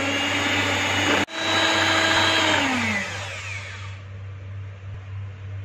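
An electric mixer whines steadily as it beats chocolate cake batter with yogurt and vanilla. It cuts out briefly, restarts, then winds down and fades to quiet, with no talking.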